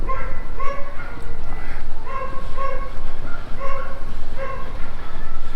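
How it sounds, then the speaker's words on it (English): Several dogs bark and yip in repeated bursts on a downtown street in Portland's Pearl District, Oregon, over steady traffic and city hum, moderately close. "Can you hear the dogs barking?"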